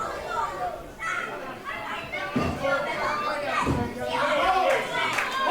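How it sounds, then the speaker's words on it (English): Wrestling crowd at the Commemoration Hall in Huntingdon claps and chants for Tall Tom during a match against The Wall: Tyler Stevens, a steady dense roar of many voices with sharp bursts of clapping throughout. "The crowd here at the Commemoration Hall clapping for Tall Tom"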